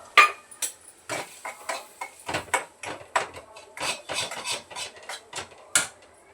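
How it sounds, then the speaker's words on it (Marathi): Semolina roasting in a spoonful of ghee in a pan, stirred with a spoon: irregular scraping and rubbing strokes that repeat steadily and sit close and fairly quiet, with no talking. "एक चमचाभर तूप घातले आणि त्यातच लगेच हा रवा थोडासा भाजून घेते."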